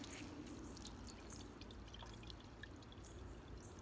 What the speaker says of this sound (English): go ahead and add water to that.